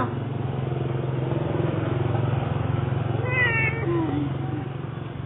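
A cat meows in short calls about midway through, heard over a steady low engine-like hum in the background.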